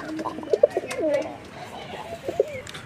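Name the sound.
pigeons cooing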